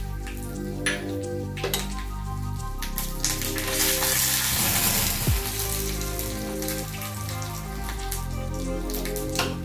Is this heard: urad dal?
yes